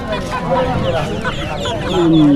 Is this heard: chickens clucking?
yes